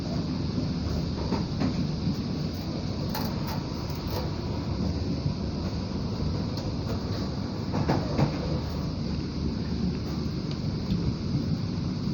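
A JR 205 series commuter train passes on the rails near Bekasi, Indonesia, giving a steady, moderately quiet rolling rumble with faint rail clicks and no talking.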